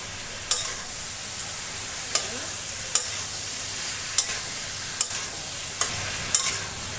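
Spices, ginger paste, garlic and vegetables with chicken and young jackfruit sauté over high flame, a steady sizzle with a spatula striking the pan at regular intervals about once a second.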